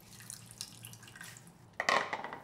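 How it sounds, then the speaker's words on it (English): Excess water drips and splashes from drained corn being squeezed in a cotton cloth, quiet trickles giving way to a brief sharper splatter near the end, close and faint with no talking. "Squeeze out the excess water."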